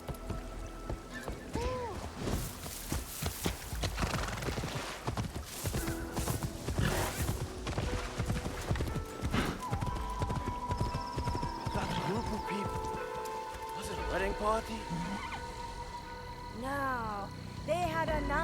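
Horses in the Assassin's Creed video game, set in 1582 Japan, clip-clop along at a steady gait and neigh several times, with voices talking throughout.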